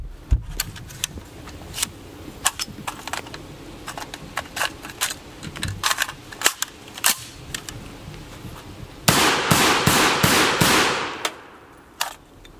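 A Faxon ARAK 21 rifle fires during a torture test, sharp loud shots in irregular bursts with pauses, then a fast rapid string near the end, close and outdoors.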